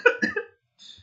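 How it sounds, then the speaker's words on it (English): A man coughs three times in quick succession, a raspy, close cough from a lingering cold, followed by a faint breath or throat noise after a short pause. "obviously I'm still coughing from my cold"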